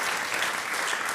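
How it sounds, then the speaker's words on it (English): Audience applause from a comedy show crowd, a brief steady burst of clapping with no voices over it. "Let's applaud."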